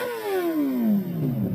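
A motorcycle engine revs up and then winds down, a single loud, close sweep whose pitch falls steadily over a second and a half.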